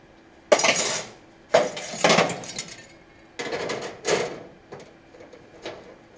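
Sheet metal being cut for a Sport Quattro replica roof panel in a fabrication shop, heard as several loud, rough bursts of snipping or rasping, each lasting about half a second, with short pauses between them.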